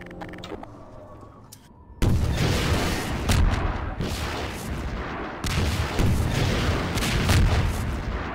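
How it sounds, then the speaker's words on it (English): Rocket launcher fire and explosions in Half-Life 2: Episode 1, with heavy booming blasts and long rumbling, crackling roars that fill the space, loud and close, no talking. "I guess I'm just gonna spam rockets."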